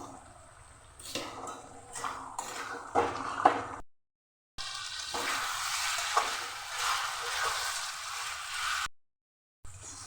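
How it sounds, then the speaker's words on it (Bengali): Chicken for tomato chicken biryani being stir-fried in a pan, a close sizzle with stirring scrapes and clinks, briefly interrupted by short silent gaps, moderately quiet and without talk. "মাংস আমি ভালো করে কষে নেব।"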